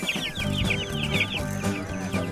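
Meat bird chickens cluck busily in a small backyard flock, a near, continuous chatter of overlapping clucks with no talk.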